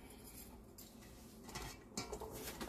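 Crab cake ingredients being stirred together in a bowl make faint, close scraping and clinking of a utensil, with a couple of slightly louder knocks near the end.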